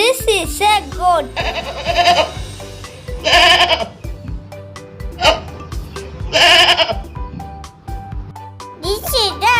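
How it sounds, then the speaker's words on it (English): A domestic goat bleats in repeated wavering cries spread through the clip, close and loud, with a voice talking at the start and end. "This is a goat."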